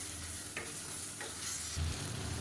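Tomatoes stirred into a frying chicken biryani pan, a steady close sizzle with a few soft scraping stirs and a brief louder clatter near the end.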